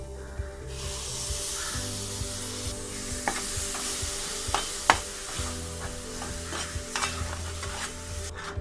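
Ground masala paste with garam masala, turmeric and Malvani masala frying for Malvani egg curry, giving a loud continuous sizzle and hiss with repeated scraping strokes of a spoon stirring in the pan.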